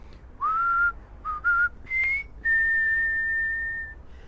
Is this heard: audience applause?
no